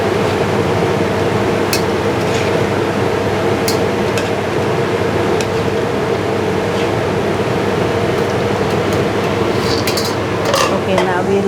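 Dried shrimp fry and get stirred in chilli oil, with a constant loud sizzling hiss and frequent metallic clinks of a utensil scraping the pan, under occasional talk.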